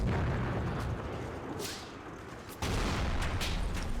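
Machine guns firing in a war game, a steady stream of dense, rattling bursts with booming impacts, moderately distant and quiet, briefly easing before resuming with a sharp loud burst.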